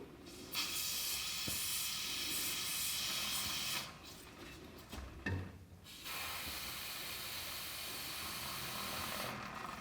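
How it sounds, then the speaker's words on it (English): Bursts of Inox lubricant spray hiss loudly up close onto a rubber wheel seal behind the dust boot of an Isuzu, a long continuous blast, a brief pause with faint clicks, then another sustained spray. "now we can spray the Inox spray in behind the dust boot and onto that rubber seal"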